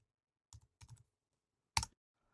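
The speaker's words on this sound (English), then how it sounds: "I'll create a new JavaScript file by going over to the console and typing touch" A few separate keystroke bursts on a computer keyboard, with a louder final click, as a command is typed into a console; quiet and close with gaps of silence between.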